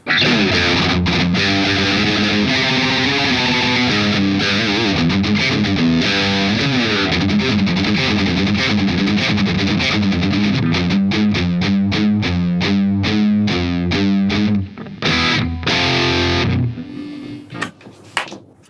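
Heavily distorted electric guitar played through a Blackstar St. James amp, chugging rhythmic riffs and chords that speed into rapid staccato bursts before ringing out and stopping.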